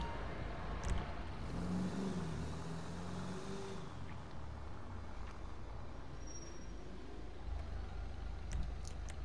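An Albany Lurcher car in GTA V, its engine rumbling and revving steadily in a dense low roar with a rising tone early on, close and continuous throughout, no voices.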